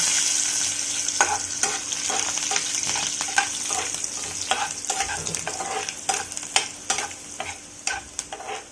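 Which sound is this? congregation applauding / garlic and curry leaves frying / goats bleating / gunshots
garlic and curry leaves frying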